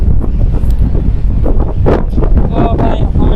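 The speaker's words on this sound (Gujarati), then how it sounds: "પવન એટલે પવન, બહુ પવન છે હો" Strong wind roars and buffets across the open deck of an old ro-ro ferry crossing from Hazira to Ghogha, loud, constant and close throughout.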